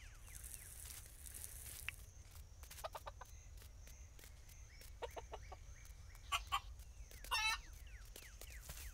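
Chicken in the video game Dinkum giving a few soft clucks over a steady outdoor ambience with light rustling, quiet and somewhat distant.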